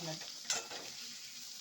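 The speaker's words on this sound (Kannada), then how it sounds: "ಈಗ ಇದಾಗಿದೆ ಫ್ರೈ ಆಗಿದೆ ಎಂಬತ್ತು ಪರ್ಸೆಂಟಷ್ಟು ನಾನು ಫ್ರೈ ಮಾಡ್ಕೊಂಡಿದ್ದೀನಿ" Okra in a dahi bendi gravy masala fries in a pan, giving a soft, steady sizzle with a short stirring scrape near the middle, fairly quiet and close.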